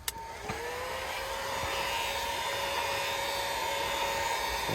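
A heat gun blows on the adhesive backing of a footwell lighting strip in an Infiniti Q car, a steady close whooshing hiss that starts abruptly and runs unbroken, with a faint whine over it.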